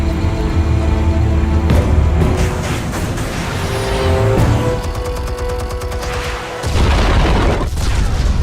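Armed explosives go off in the Batman Telltale game as a loud, deep boom with sustained rumbling and a music score underneath, swelling again near the end.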